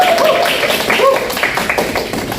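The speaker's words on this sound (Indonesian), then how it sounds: "Tepuk tangan dulu untuk kelompok 1" Classroom applause for a student group: a short burst of scattered hand clapping from a small group, with some voices underneath.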